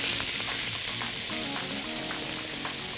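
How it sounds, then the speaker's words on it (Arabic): Onion frying in butter in a pan, a steady bright sizzle throughout with faint stirring clicks, close and fairly loud, no talking. "انزل بالبصله الاول بسم الله على الزبده."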